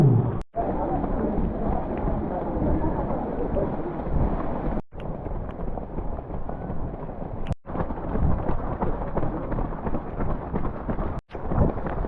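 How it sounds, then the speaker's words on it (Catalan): Heavy rain pours steadily during a running race, a dense, loud roar with wind buffeting the microphone and several brief dropouts. "sobrevivint aquí les misèries de la pluja"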